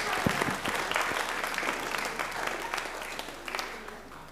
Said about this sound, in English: Let's give him a round of applause for helping me this morning.